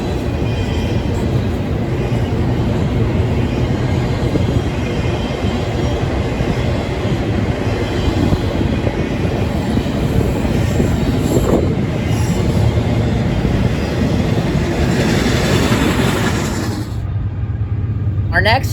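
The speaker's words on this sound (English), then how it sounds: "another CSX train just passed" A CSX manifest freight train rolls past close by in North East Ohio, a loud continuous rumble of railcars with squealing wheels and clatter that fades away abruptly at the end, with voices underneath.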